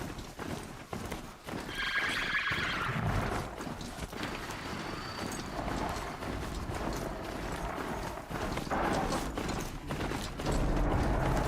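Rapid clip-clop hoofbeats of a galloping horse in Horizon Zero Dawn over a busy game soundscape with mechanical rattles, fairly loud and continuous throughout.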